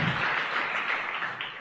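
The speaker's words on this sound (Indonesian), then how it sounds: "Tepuk tangan buat Ibu Nayunda" Audience applause at an Indonesian motivational seminar, a short burst of steady clapping from a room full of people, fairly close and heard on its own.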